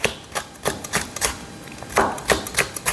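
A kitchen knife thinly slices a Cheongyang chili pepper on a cutting board, quick crisp taps repeating in an uneven rhythm, close and clear with no talk.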